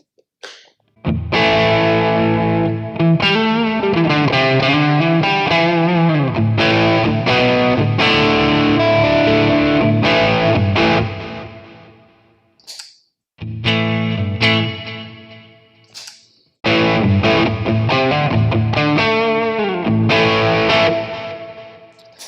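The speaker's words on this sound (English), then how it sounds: "right now I'm going to turn on an overdrive pedal in front of the device" An electric guitar played through a LEKATO Tank-G effects processor, with an overdrive pedal in front, gives thick distorted chords and sustained lead notes. Loud phrases ring out with two short pauses and no talk.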